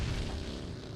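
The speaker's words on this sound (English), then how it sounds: "The vehicle explosion that occurred right next to him" A low, rumbling vehicle explosion in a competitive video game match, a dense continuous boom heard at moderate level with no talk over it.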